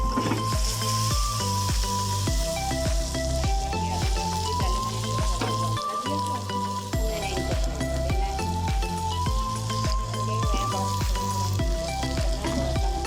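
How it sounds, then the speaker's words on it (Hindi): Small pieces of potato fry steadily in a pan with a continuous sizzling hiss, while background music plays over it. "एक साइड पे मेरे आलू है थोड़े से, वो मैं फ्राई कर रही हूँ"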